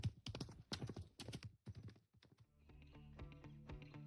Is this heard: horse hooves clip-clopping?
yes